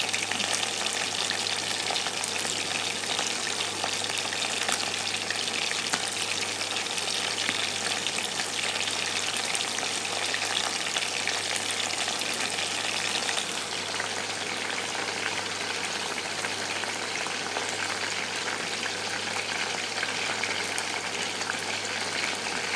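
Chicken pieces frying in a pan for chilli chicken give a dense, continuous, crackling sizzle that holds steady and fairly loud for over twenty seconds, undisturbed and without any talk.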